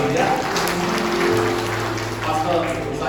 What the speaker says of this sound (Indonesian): Saya tepuk dulu untuk Yesus yang hebat ya.